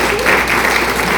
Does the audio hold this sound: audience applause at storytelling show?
yes